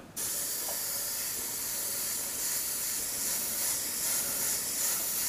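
An airbrush sprays paint on compressed air at low pressure, giving a steady, close, even hiss that starts abruptly and runs without a break.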